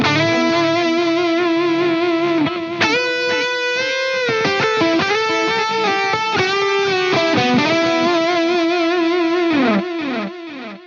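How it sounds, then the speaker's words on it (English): Distorted electric guitar melody runs through a Wampler Catacombs delay pedal with heavy, warbling modulation, repeats smearing into each other; loud and continuous with no talking. "Got a lot of modulation on that, as you can hear."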